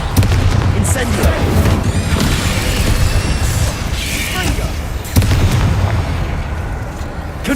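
Incendio fire spell cast during a Hogwarts Legacy fight, with bursts of whooshing, booming magic in continuous loud battle noise and a voice speaking through it.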